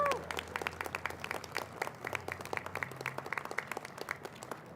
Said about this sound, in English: we want to give our young people a round of applause for being here today